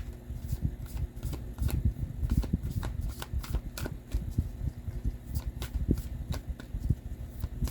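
Tarot cards being shuffled by hand at close range in a reading, giving a steady run of soft papery riffles and taps with no speech.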